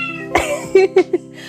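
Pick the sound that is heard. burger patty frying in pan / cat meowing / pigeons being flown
cat meowing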